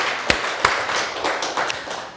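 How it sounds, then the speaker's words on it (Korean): A church congregation applauds together in a steady, dense patter of many hands, with a couple of sharper, louder claps standing out near the start. "박수"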